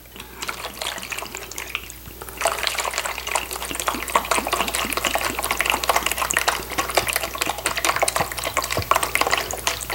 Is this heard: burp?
no